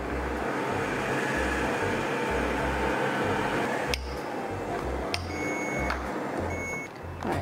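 A food processor mixing egg batter at speed 5 for about ten seconds, a steady loud motor whir with pulsing low churning, ending with a few clicks.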